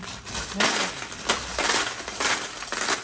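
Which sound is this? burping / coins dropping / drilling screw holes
coins dropping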